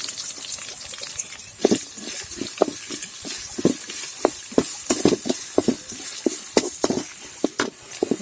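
Chopped onions and curry leaves fry in a pan with a soft crackling sizzle, broken by frequent scraping taps of a spoon stirring, close and with no speech.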